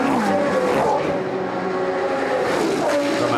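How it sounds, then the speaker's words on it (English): GT race cars, an Audi and an Aston Martin, at speed through Eau Rouge at Spa during a 24-hour race, engines roaring loud and sustained with shifting pitch, no voices over them. "There is the Audi going through Eau Rouge at race speed"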